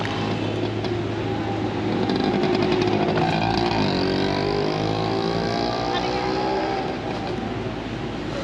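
An auto rickshaw engine rattles on a busy Karachi street, a continuous close motor drone mixed with passing traffic and crowd noise that runs steadily throughout.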